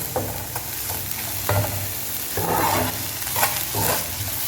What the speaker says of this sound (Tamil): அது கொஞ்சம் வதங்கட்டும், முட்டைக்கோஸ் கொஞ்சம் வதங்கட்டும்.